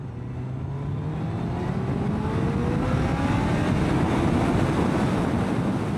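Harley-Davidson motorcycle accelerating hard under throttle, engine note rising steadily in pitch over about six seconds, loud and close with heavy wind rush over the microphone.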